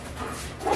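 A dog yips and barks once, close and moderately loud, at a tent campsite in Yosemite, with the sound rising toward the end of the short burst.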